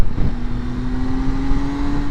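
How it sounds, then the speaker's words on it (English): 2024 MV Agusta Enduro Veloce motorcycle engine heard on a twisty road during riding, a loud, close, sustained drone with a steady tone and wind buffeting, no talking. "Can you hear that engine? I hope you can on this bike. It's just brilliant."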